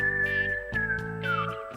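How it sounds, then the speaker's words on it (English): Several short whistled notes rise and slide in a cartoon setting, clear and sustained, with one gliding downward at the end over a faint musical backdrop. "Where's that whistling coming from?"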